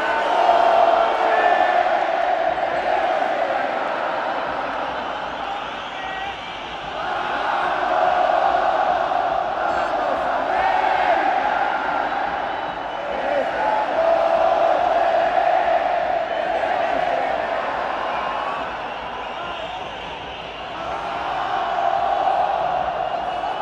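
Cruz Azul supporters roar from the stands at Estadio Azteca during a final, a massive sustained crowd chant swelling and easing in waves with a commentator talking over it.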